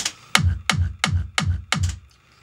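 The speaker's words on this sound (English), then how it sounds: "Play the kick on its own without the low cut on it." Vengeance trance kick drum sample played solo without a low cut, five evenly spaced booming hits with sharp clicky attacks, loud and alone, then quiet.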